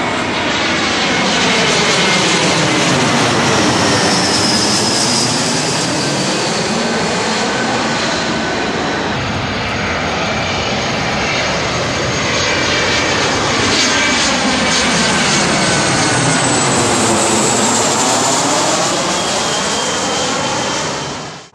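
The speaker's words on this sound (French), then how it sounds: "on voit vraiment passer les avions de près" Jet airliners on low approach to a Los Angeles airport runway pass close overhead, a loud, continuous engine roar that swells and fades in long sweeps for over twenty seconds.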